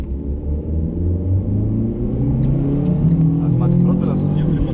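A car accelerates hard on a Nürburgring lap, its engine note rising steadily with a loud, continuous rumble throughout, while people talk over it inside the cabin.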